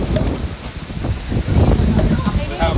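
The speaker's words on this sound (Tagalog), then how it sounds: "We have very big wind now." Strong wind buffets the microphone outdoors in loud, uneven rumbling gusts, mixed with people talking close by.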